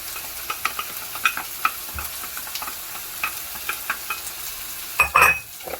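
A frozen vegetable blend with green pepper fries in a pan, giving a soft steady sizzle punctuated by light clicks and taps of a utensil, ending in a louder scrape and clatter; no talking.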